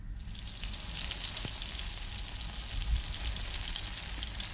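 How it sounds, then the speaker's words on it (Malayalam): Pieces of chicken fry in a pan for a Kerala-style Kurathi Kozhi, giving a steady, loud, close sizzle that stays even throughout, with a faint knock partway and no voices. "ആ ചിക്കൻ പൊരിച്ച് വരുന്ന സൗണ്ട് കേട്ടോ, നല്ല രസമാണ് അത് കേൾക്കാൻ തന്നെ"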